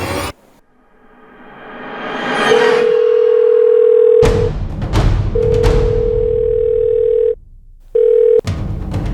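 A telephone ringback tone: steady long beeps repeating with pauses, over a noisy background with brief clicks and rustles.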